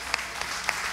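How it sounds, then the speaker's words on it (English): A church congregation claps during a Sunday morning service, a brief wash of many hands with a few crisp individual claps popping out near the start and end, lasting about a second. "Give a hand and clap."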